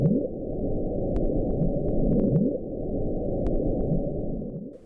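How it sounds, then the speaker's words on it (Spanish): A recording of a mysterious deep-ocean sound from the South Pacific, a dense, continuous low rumbling churn like water boiling, with faint clicks scattered over it and no voices. "El sonido simulaba como si algo estuviera hirviendo en el fondo del océano."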